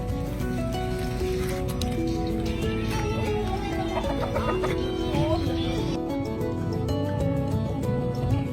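A wild junglefowl rooster clucks and calls amid busy outdoor noise, with other animal sounds and faint voices in the background.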